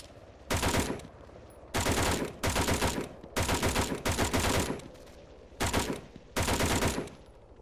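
Loud automatic gunfire in a military video game bursts out in several rapid sustained volleys separated by short pauses, close and dominant with no voices over it.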